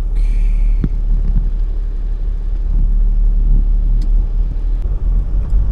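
Car traffic at a Skyway exit heard from inside a vehicle, a steady low engine rumble and road drone with a few faint thumps, loud and continuous, with no talking.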